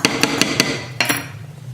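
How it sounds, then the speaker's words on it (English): A spoon clinks rapidly against the side of a cup while stirring vanilla into water, several quick metallic taps in an even rhythm, close and fairly loud. "Teaspoon of vanilla. I mix it into the water."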